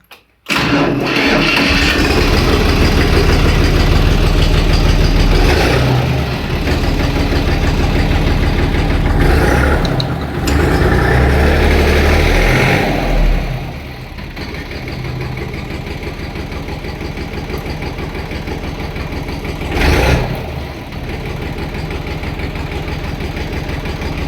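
A tractor engine cranks and starts, then runs loudly at a steady mid-pitched idle with a few surges in revs, close by and with no talk.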